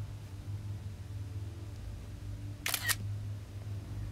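A tablet screenshot plays a camera shutter sound, a brief double click near the end over a low steady background hum.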